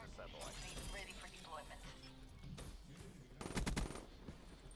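A sentry gun opens fire in the Black Ops 3 video game, with scattered shots under people talking and then a dense, loud rattling burst near the end.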